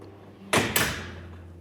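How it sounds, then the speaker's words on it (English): An antique porcelain work table over 100 years old slides outward from its cabinet, giving a brief, close double rumbling scrape that fades quickly into quiet. "And its work table extends outward."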